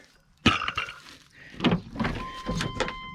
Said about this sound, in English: Gonna move our door lock here.